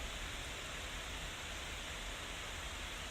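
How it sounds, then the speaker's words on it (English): Night rain falling on trees and onto the ground makes a dense, even hiss that holds steady throughout, with no single drops standing out and no voices. "The continuous rhythmic orchestra of the raindrops falling on the trees"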